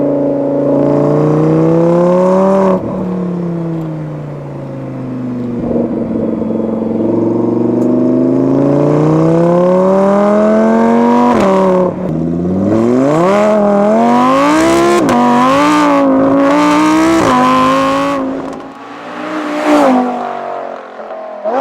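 An Audi R8 V10 facelift with Milltek exhaust and tune driving on the road, loud close engine with repeated revving climbs, gear changes and roaring accelerations, ending in a fading pass.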